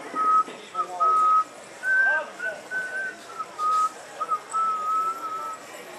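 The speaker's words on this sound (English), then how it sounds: "But when I whistle, just for you," A clear, melodic human whistle carries a slow tune in sustained notes with short pauses between phrases, close and fairly loud.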